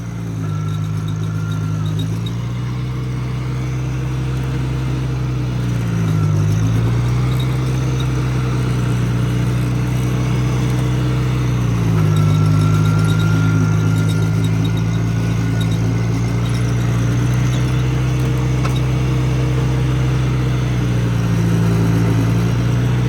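A Cub Lo-Boy farm tractor's engine runs in first gear, a loud, close and steady drone whose pitch dips and recovers a few times as it works along.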